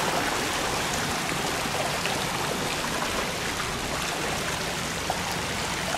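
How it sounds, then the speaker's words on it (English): Water rushes continuously from a waterfall at the front of a hotel in Langkawi, Malaysia, a dense, even roar that fills the scene from start to finish with no voices. "This waterfall at the front."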